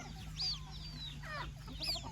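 A few quiet, thin peeping chirps from small chicks sound over a low steady hum.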